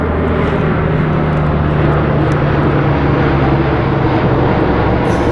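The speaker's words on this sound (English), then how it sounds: "Airplane, really?" A fixed-wing airplane passes overhead during a winter micro fishing outing, a loud steady engine roar with a humming drone that fills the whole clip and never fades.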